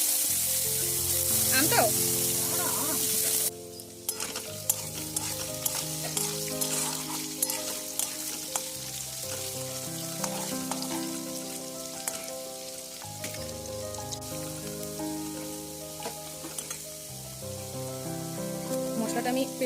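Potatoes fry in hot oil seasoned with turmeric, giving a steady, close sizzle that runs unbroken with music behind it and a brief spoken word.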